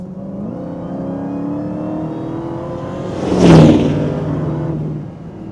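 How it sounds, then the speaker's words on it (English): A supercharged car engine hums and whines steadily, swelling loudly as it passes close by, then fading slightly. "Supercharged engines sound something like this."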